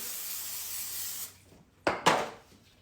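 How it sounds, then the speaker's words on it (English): Cooking spray hissed into a baking pan for cornbread dressing: a steady close spray lasting about a second, then a pause and two short knocks as the can and pan are handled. "you're gonna spray you a pan"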